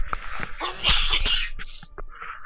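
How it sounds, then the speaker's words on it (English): A single sneeze bursts out close and sharp from a gamer playing Mass Effect 3, with a brief sniffly breath and throat noise around it and no words. "I gotta sneeze"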